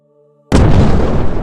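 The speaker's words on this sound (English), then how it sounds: "Warren ordered a cannon shot fired into the woods" A single cannon shot fired into woods at Little Round Top, Gettysburg, bursts suddenly after a faint tonal hum and booms loud and sustained with a broad rumbling roar.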